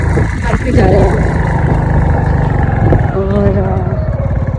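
A motorcycle engine roars loudly and continuously on a night ride during New Year celebrations, the wind-blown rumble dense throughout with a rider talking over it.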